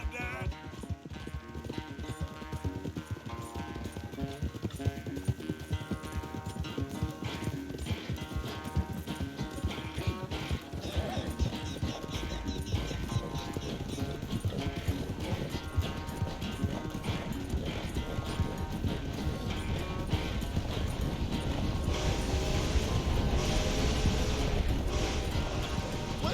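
A horse gallops in Red Dead Redemption 2, steady rapid hoofbeats drumming throughout a race alongside game music and occasional character voices.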